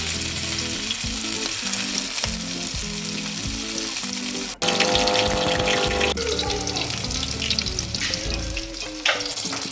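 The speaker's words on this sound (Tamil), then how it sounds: "மித்த அடுத்த மீன்களையும் இதே மாதிரி பொரித்து எடுத்துக்கலாம்." Vanjaram seer fish frying in hot oil gives a steady, dense sizzle throughout, with a brief break midway and occasional stirring and clatter over the bubbling.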